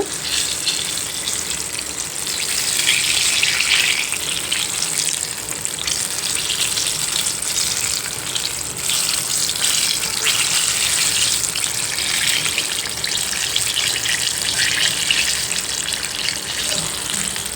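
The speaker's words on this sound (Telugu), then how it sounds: "సిమ్లో పెట్టి బాగా వేయించుకోవాలండి లోపల దాకా బాగా ఉడుకుతాయి మిరపకాయ బజ్జీలు" Mirchi bajji, gram-flour-battered chili fritters, bubble and crackle in hot oil over a street-cart-style stove, producing a loud, continuous, close frying hiss that swells slightly at moments, with no voices.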